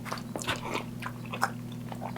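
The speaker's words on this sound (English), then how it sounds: "You can hear me slurping it." Someone chews and slurps tender chicken falling off the bone at a Dominican restaurant, with soft wet bites and smacks close to the mic over a low steady hum.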